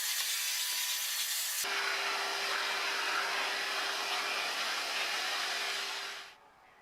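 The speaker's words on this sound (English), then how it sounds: "I gave it a good brush vacuum to remove as much loose dirt as possible." A brush-attachment vacuum cleans the dashboard of a BMW E30 during an interior restoration, giving a loud, steady whooshing drone with a scraping texture that shifts in tone partway through and then cuts off near the end.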